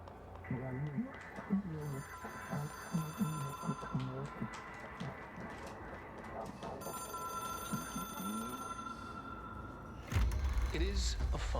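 A ringing phone, an object of power, in the video game Control, its repeated bell-like rings clear and steady over game music and low ambience, with a spoken voice in the mix.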